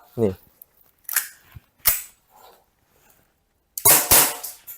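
A gas-powered M93R BB pistol fired in single-shot mode: a few sharp, loud pops spaced well apart, with a brief voice near the start.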